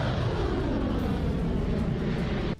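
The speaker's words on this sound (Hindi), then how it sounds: "वहां का आसमान लड़ाकू विमानों की गरज से गूंज उठा।" Fighter jets roar overhead during an Iranian military exercise, a loud, continuous broadband rumble that holds steady and cuts off abruptly at the end.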